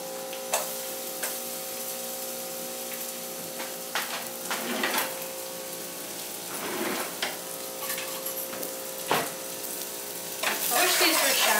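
Onion pieces sweating in a pan for a broiled shio salmon dish, giving a soft steady sizzle broken by stirring scrapes and clicks, fairly close with no talking.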